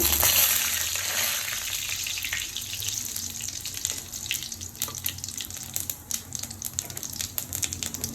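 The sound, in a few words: spice paste frying in a pan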